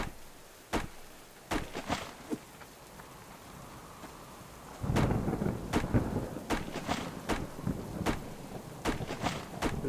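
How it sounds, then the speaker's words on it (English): Summer rain and thunder in the survival game Subsistence, with sharp cracks and rumbles repeating every second or so over a steady patter of rain that grows heavier midway. "Like a bit of rain in the summer."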